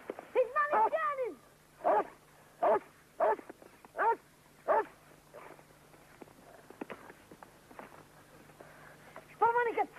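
A dog barks several times in short, sharp bursts, fairly close, with a gap of a few seconds before one more bark at the end, against a quiet background with a faint steady hum.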